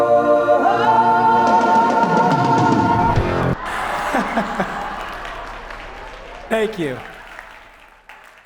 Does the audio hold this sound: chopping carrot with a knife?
no